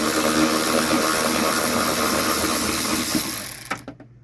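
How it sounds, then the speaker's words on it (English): A power driver with a wobble extension whirs steadily and loudly, up close, while removing the top dash screws in a 2004 Dodge Dakota, then winds down and stops in the last half second. "I'm just going to take these screws out across the top."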